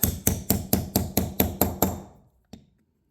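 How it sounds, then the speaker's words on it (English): Steel hammer striking a punch to drive the locking pin on a brush hog mower's PTO shaft: nine sharp, evenly spaced metallic blows close up, fading slightly, then one lighter tap after a short pause. "work the pin back and forth with a hammer and a punch and get it all the way in."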